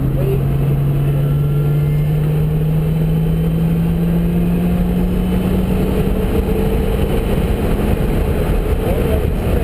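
A car engine held at full throttle while driving a track to the left, a steady loud drone whose pitch climbs slowly throughout, with wind and road noise.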